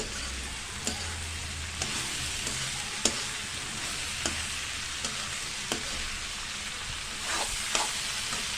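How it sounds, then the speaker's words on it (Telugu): Half a kilo of sliced okra fries in a pan with gram flour, giving a steady, even sizzle with faint clicks of stirring scattered throughout. No voices. "ఇందులో వేసి ఫ్రై చేసేస్తాను."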